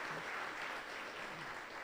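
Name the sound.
audience applause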